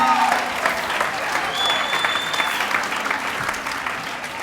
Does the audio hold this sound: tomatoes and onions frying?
no